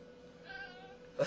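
A cat called Basement Cat gives a single short meow at the very end, close by and fairly loud after a quiet room stretch.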